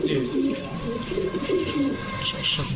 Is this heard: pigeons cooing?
yes